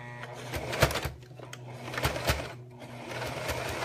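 A home sewing machine stitching a zipper, running in short bursts of quick rhythmic needle clatter with a few sharper clicks and brief pauses, close by.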